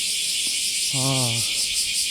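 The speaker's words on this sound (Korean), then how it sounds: "매미 소리가 정말" Cicadas drone in a dense, pulsing high buzz by Megane Bridge in Nagasaki on a summer morning. The sound is steady and fairly loud throughout, with a brief low voiced sound in the middle.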